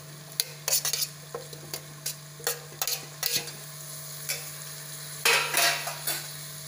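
Chopped tomatoes go into mutton cooking in a pan without oil, bringing soft sizzling and a series of metallic spoon clinks and scrapes against the pan, fairly quiet and with no talk.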